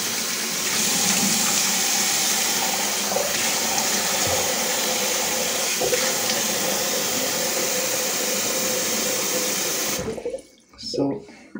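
A bathroom tap runs in a strong steady stream during face washing, a loud close gush that stops abruptly near the end, leaving faint splashes.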